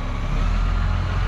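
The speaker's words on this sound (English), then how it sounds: "One of our fuel trucks." A military fuel truck's engine rumbles loudly and steadily nearby, a constant low drone with no talking.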